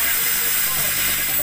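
A steady, close hiss of air escaping from the faulty intake of a Kawasaki Barako 2 motorcycle engine that backfired and won't start, continuous and fairly loud, cutting off abruptly at the end.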